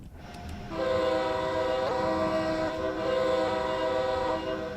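Exterior sound of an Acela high-speed train in the Train Sim World 3 video game on the Northeast Corridor, a loud sustained multi-tone horn sounding for several seconds over rolling rail noise, with no talking.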